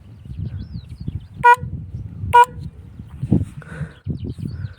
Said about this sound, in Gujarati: બસ એવો હોરન થાય